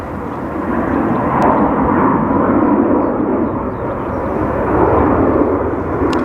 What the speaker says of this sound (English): then we have a Ryanair coming in from Hamburg after that flight, FR 5126.